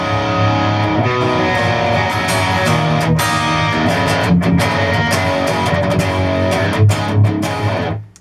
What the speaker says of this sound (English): you just got to do some research on distortion pedals